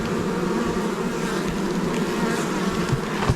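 Honeybees buzzing continuously in an open top bar hive during an inspection, a dense, close, steady drone throughout.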